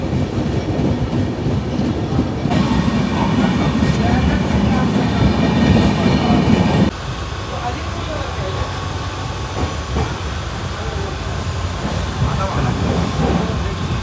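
A passenger train bound for Siliguri rolls along the rails with a continuous rumbling clatter and wheel noise, loud and close from inside, dropping in level partway through as the sound changes.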